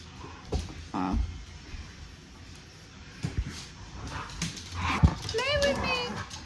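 A family dog joins in lively play at home, giving short yelps and whimpers among thumps and scuffling, with voices and household noise in the background.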